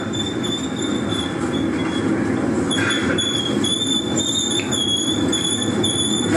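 Metal wheels shriek in high, sustained tones over a steady rumbling rail-car roll, with the squeals coming and going in overlapping bands, fairly close and continuous, with no voices.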